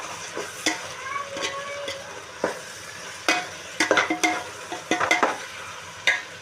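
Mutton biryani being mixed in a pot with coriander, chilli and turmeric powders and salt, irregular clatters and scrapes of a spoon against metal over a low sizzle, close and fairly loud.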